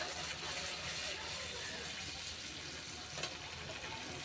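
Water left from rinsing a grinding stone is poured into a cooking pan, a faint, hissing, splashy pour that runs steadily for a few seconds in a quiet kitchen.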